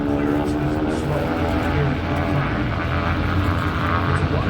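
A 150-horsepower propeller floatplane on an Alaska river powers up for takeoff, its engine droning loud and steady throughout with the roar of its prop over water and people talking beneath it.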